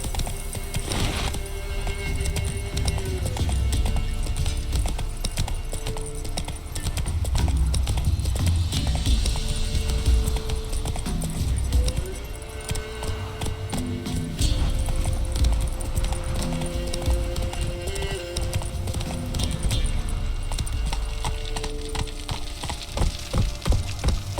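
A horse galloping across ground in The Witcher 3, its hooves drumming a steady, close clip-clop rhythm over continuous game music and ambience, with no talking.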